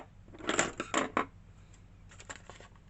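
Small children's scissors snip through a stack of about ten layers of paper in a few short, crunchy bursts, quiet and close, followed by fainter clipping sounds.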